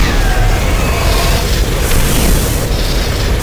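A loud, sustained rocket blast roars through a Doom 3 video game battle, the explosion's rumble filling every moment, close and dense with no quiet gaps.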